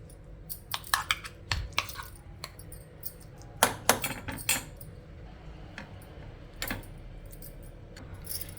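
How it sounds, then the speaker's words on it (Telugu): Chutney is scooped out of a steel mixer jar into a bowl: a spoon clinks and scrapes irregularly against metal, with bursts of rattling contact and quiet gaps between them. "ఇప్పుడు మిక్సీ పట్టుకుని పచ్చడి అంతా కూడా ఒక గిన్నెలోకి తీసేసుకుందాము."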